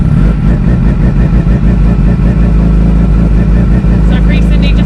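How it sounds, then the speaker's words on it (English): A Suzuki GSXR 750 motorcycle with an aftermarket exhaust and its baffle removed idles loud and close, a deep, even, throbbing burble that holds steady with no revving. "She sounds really quite naughty at the minute now with this exhaust on there."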